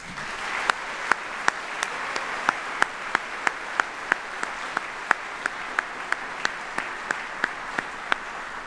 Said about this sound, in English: So please, one more round of applause for our families.